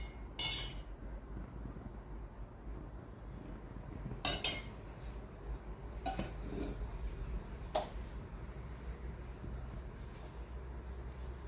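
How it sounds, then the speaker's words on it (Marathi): A metal spoon clinks sharply a few times against a heating kadhai as a spoonful of ghee goes in; the sparse taps stand out over a steady low kitchen hum. "कढई आपण तापत ठेवलेली आहे, याच्यात आपण तूप घालत आहोत 1 चमचा."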